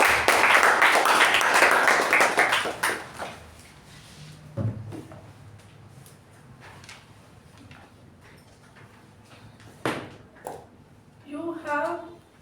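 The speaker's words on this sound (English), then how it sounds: "With a huge round of applause, please welcome DTM Sushma." A meeting audience gives a round of applause to welcome a speaker. Loud, dense clapping fills the first few seconds, then fades into scattered knocks and shuffling, and a voice begins near the end.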